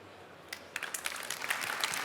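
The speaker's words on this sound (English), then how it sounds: "of course, your applause" Applause from an audience at the Formnext Awards swells in after a quiet moment, a dense patter of many hands clapping that continues steadily to the end.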